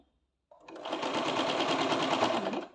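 A sewing machine runs steadily, stitching the side cut of a churidar, starting after a short silence and continuing at a fast, even stitch rhythm, close and loud.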